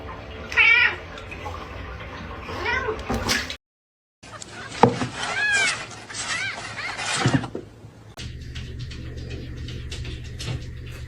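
A house cat meows several times in short, high, wavering calls, close by, between soft knocks and a door or mechanism rattling in an indoor room.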